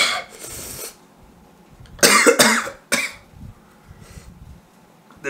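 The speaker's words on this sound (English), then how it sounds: "Makes you cough." Harsh coughing fits after eating a very hot Paqui chip, with a few raspy coughs, a louder burst of two or three heavy coughs, then throat clearing and breathing, close and loud.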